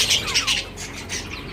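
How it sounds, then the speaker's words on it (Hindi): Pet parrots perched close by give harsh, repeated squawks and screeches in quick bursts, loud and near, with no talking over them. "मेरे बराबर में बैठे हुए सारे तोते"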